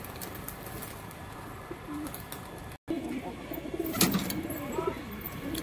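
Giribaz flying pigeons give soft, faint coos at a loft amid a broad outdoor background hiss, with a short gap partway through and no clear voices.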